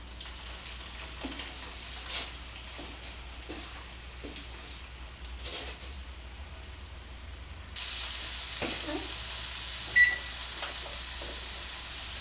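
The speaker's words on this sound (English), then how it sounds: "I'm going to take it over to my pan and I'm going to cook it" Cubed steak frying in a pan gives a soft, steady sizzle throughout, with faint clinks and a brief louder knock near the end.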